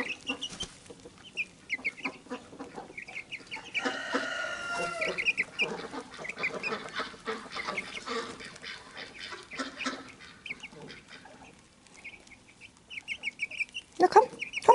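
Garden hens clucking and chirping at close range, a busy run of short high calls with a few louder squawks, with little or no talk.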